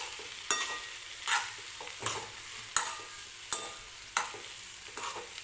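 Potato bhaji for dosa being stirred in a pan, a spoon scraping in regular strokes roughly every second over a soft background sizzle, close and fairly quiet, no talking.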